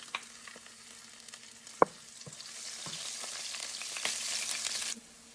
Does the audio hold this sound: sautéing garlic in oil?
yes